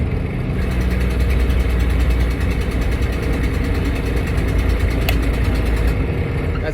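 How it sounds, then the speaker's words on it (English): A used truck's engine with a new turbo and a recently done clutch, running with its engine brake applied during a test drive: a loud, steady, rough diesel drone with a fast rattling pulse, alone without talk. "I'm gonna give this a Jake real quick, make a noise."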